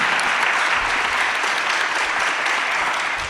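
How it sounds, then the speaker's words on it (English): An audience at an artist collective panel claps steadily for the speakers, a full, even round of applause sustained throughout. "Y'all give them a round of applause"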